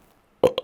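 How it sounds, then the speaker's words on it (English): A single short burp erupts loudly and close after silence, with a brief second gulping pulse right behind it. "There, I burped."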